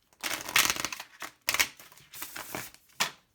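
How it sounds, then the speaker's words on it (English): Quick bursts of tarot cards being shuffled, three or four riffling rushes with short pauses between, close and crisp, no voices. "Alright, one last shuffle."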